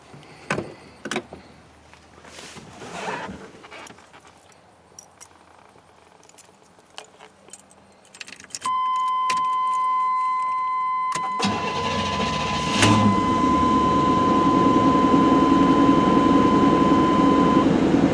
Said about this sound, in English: let's do a cold start on this truck